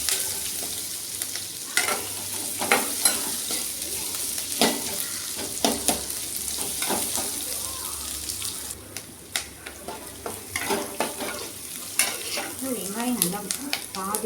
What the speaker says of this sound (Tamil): வெங்காயத்தை போட்டு வெங்காயம் நல்லா கொஞ்சம் லைட்டாக செவந்து வர வரைக்கும் வணக்கிட்டு